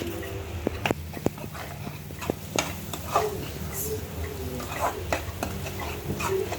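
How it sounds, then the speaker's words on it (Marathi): Keema being stirred in a pan as Kashmiri chilli powder and garam masala are mixed in: a spoon repeatedly scrapes and taps against the pan over a low, steady sizzle. "हे आपण सगळं आता मिक्स करून घेऊया"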